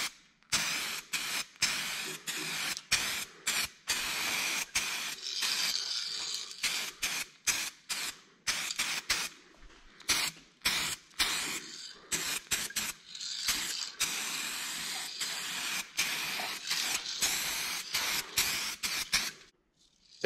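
A spray gun fitted to an aerosol can coats the roll cage of a Can-Am X3 with paint, giving a rapid series of short, close hissing bursts separated by brief pauses, with no talking.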